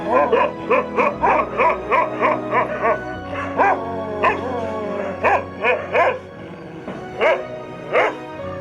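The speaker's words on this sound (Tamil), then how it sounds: "இதை வெறும் நாய் என்று அழைக்காதீர்கள், இது ராஜபாளையம்." A Rajapalayam dog barks repeatedly at close range, a rapid series of loud, sharp barks with short yips and whimpering tones mixed in, steady throughout.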